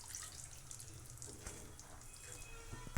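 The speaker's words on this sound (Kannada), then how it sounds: "ಜಾರ್ ತೊಳೆದಿರೋ ನೀರನ್ನು ಹಾಕಿಬಿಡೋಣ." Water used to rinse a mixer jar is poured into a pot of fried garam masala for a Karnataka-style keema sambar, a faint, steady splashing pour that runs unbroken for a few seconds with no voices.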